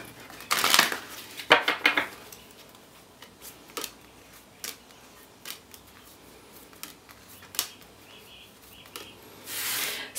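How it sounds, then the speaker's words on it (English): Tarot cards are shuffled in quick riffling bursts, soft papery flutters and snaps that come close but fairly quiet, followed by scattered light taps and clicks in a calm room. "Okay, one more shuffle."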